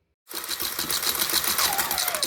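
A coin sorting machine whirs back to life after being cleaned and unjammed, a sudden start into a fast, continuous rattling clatter of dimes tumbling through, close and fairly loud.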